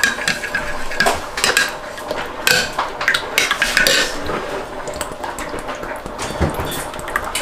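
A spoon stirs coconut milk, palm oil and a little cornstarch in a pan for fish moqueca, with close metallic scrapes and clinks against the pan in an irregular, steady rhythm and no talking.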